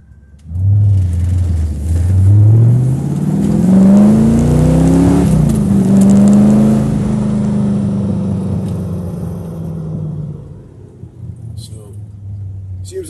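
A C4 Chevrolet Corvette engine hums and rises in pitch as it accelerates on the road, a smooth steady purr that eases off toward the end.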